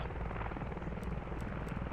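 Helicopters fly over a modded Panjwai map in the Squad game, their steady rotor and engine roar loud and continuous throughout, with no voices.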